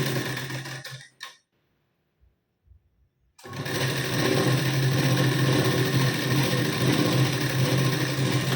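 A home sewing machine stitches a cross strip onto a blouse with a half-inch seam margin, running in a steady mechanical whir, pausing briefly for about two seconds, then resuming in a long continuous burst, close and loud.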